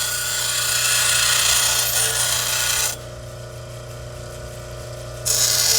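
Lapidary saw trimming a soft moonstone lizard eye stone, a loud steady grinding whine that drops to a duller, quieter tone midway as the blade cuts through, then rises again near the end.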